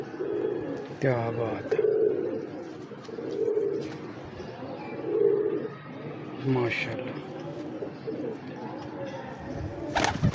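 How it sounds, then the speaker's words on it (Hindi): Teddy pigeons at a loft coo in repeated low, throaty bursts close by, with someone talking over and between the calls. "ये सारे सलारे कबूतर दिखाए हैं आपको"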